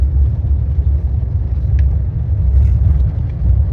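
Low, steady engine rumble and road roar from a truck driving a barren stretch of the Pony Express overland trail in Utah and Nevada, continuous and fairly loud inside the cab with no talk.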